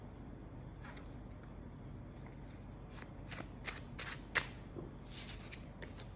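Tarot cards are shuffled in short riffling bursts over a low steady background hum, the crisp flutters coming in uneven clusters that grow slightly louder toward the end.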